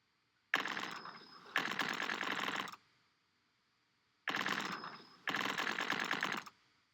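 Two pairs of rapid burst-fire gunshots from a video game, each burst a dense rattling stretch of about a second, separated by short gaps and a longer pause, loud and alone without talk.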